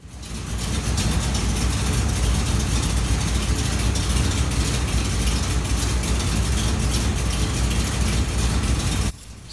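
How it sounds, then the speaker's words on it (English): A 1957 Chevy Bel Air engine idles steadily after a carburetor rebuild, a close, even low rumble that holds for several seconds before cutting off abruptly near the end. "we got the carburetor all put back together and on the car and running"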